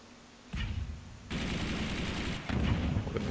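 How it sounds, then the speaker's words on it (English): Sniper fire in the video game Forts comes as a few sharp, heavy gunshot bursts, each followed by sustained rumbling noise, loud and close with no talk over them. "Let's see how this sniper does."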